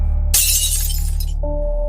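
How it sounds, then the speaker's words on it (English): A glass slides off a side table and shatters into sharp fragments on the floor, a sudden loud crash that rings for about a second before fading over a low steady hum. "the glass on the side table slid off on its own, smashing into sharp fragments across the floor"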